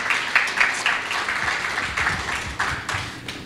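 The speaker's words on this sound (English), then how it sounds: "Could you give Mr. Abdi a big applause right now?" Guests at a ceremony applaud a man being honored, a short, moderate round of clapping with uneven bursts, somewhat distant in the room.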